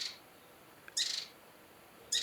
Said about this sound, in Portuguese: De manhã fomos acordados por um pássaro muito pequeno, mas muito persistente